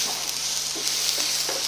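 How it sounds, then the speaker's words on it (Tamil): Prawns sautéing in a pan with turmeric, coriander and curry leaves, giving a steady close sizzle and hiss with a few soft scrapes of stirring, no voices. "அப்புறம் கொஞ்சம் கருவேப்பிலை ஆட் பண்ணிவிட்டு இதை நல்லா வதக்குங்க."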